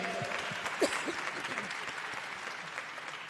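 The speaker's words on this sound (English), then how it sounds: "y'all clap for my mama before I get in trouble later" Audience applause at the Rainbow PUSH annual conference, a dense steady crowd clapping in a large hall for a few seconds with a faint voice briefly underneath.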